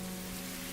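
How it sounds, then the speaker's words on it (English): Rain falls as a dense, steady hiss over a faint low hum, continuous through a very short moment. "It was rain."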